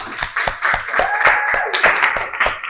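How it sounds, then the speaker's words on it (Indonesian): A classroom of students claps together after a presentation, a lively burst of many hands in quick, uneven rhythm, steady and close for a few seconds. "Oke, kita beri aplaus ya."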